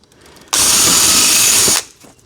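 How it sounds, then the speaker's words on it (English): A power drill bores a hole through a styrofoam ICF block, one loud, close, steady whine of about a second and a half that starts and stops abruptly against quiet room tone. "just easy to just drill through it"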